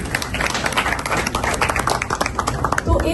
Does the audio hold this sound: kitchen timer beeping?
no